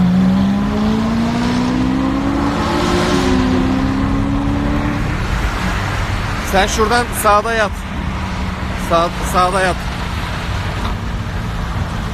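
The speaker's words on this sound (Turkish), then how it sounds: "Dışarıdaki arabaların seslerini duyalım." Car engines at night on a road in a Nissan GT-R roll race, a loud steady drone with rising engine tones, later several sharp revving bursts, while people talk over it inside a vehicle.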